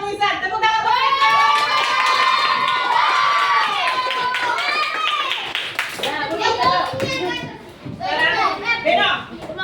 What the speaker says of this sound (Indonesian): Tepuk tangan buat Pedro